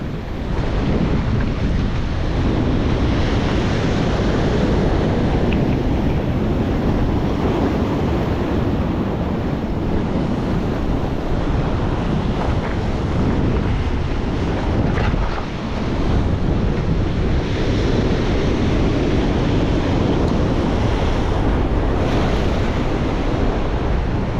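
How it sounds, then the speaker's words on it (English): Big sea waves pound a rocky, barnacle-covered stretch of the Portuguese coast, a continuous loud roar of surf with heavy wind buffeting the microphone throughout. "because the waves are too big"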